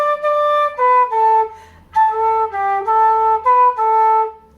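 A flute plays a legato trad phrase beginning on a high D, about ten sustained notes in a flowing rhythm with a brief pause near the middle, clear and close with no voices.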